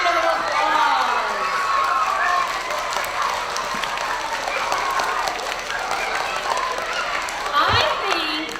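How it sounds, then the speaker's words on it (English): Students and families at a school Student of the Month assembly applaud steadily for the whole stretch, a dense wash of clapping with children's voices and cheers mixed in throughout. "Let's give them a round of applause."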